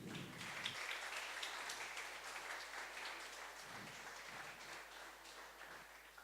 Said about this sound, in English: So one more applause for these partners, please.